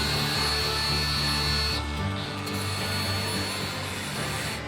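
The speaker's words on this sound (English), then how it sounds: "You can see here I'm putting a bevel on this with the grinder." An angle grinder bevels the edge of a metal piece for welding at a mining operation, a loud, steady high whine with continuous grinding noise that eases slightly partway through.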